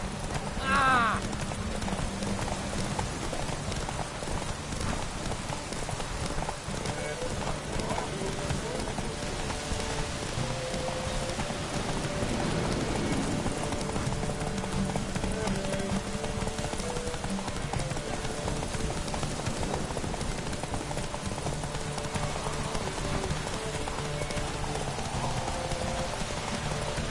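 Roach the horse clip-clops at a steady gallop through The Witcher 3, rhythmic hoofbeats running under game music and ambience, with brief speech near the start.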